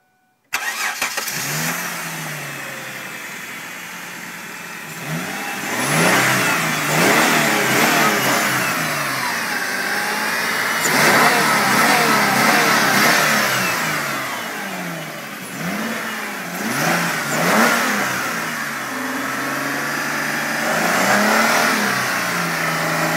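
A gasoline 2006 Kia Sorento LX with a 24-valve 3.5 liter V6 starts up and its exhaust is revved repeatedly, loud rising and falling bursts over a steady idle, close by with no talking.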